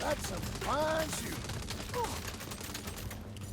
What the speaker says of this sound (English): That's some fine shooting.